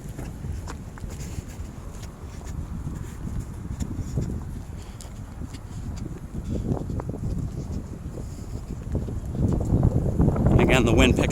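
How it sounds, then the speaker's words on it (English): Gusty wind buffets an outdoor walk through a residential neighbourhood on a cold early-spring day, a steady low rumble that swells louder toward the end, with footsteps faintly underneath. "the wind picking up a bit"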